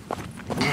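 Running footsteps on a forest trail: two quick, close footfalls with soft thuds over a low outdoor background.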